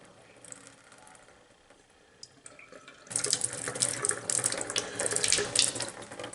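A faucet turned on full hot gushes steadily into a sink in an interior under renovation. Quiet handling noises come first, then a loud, continuous rush of water.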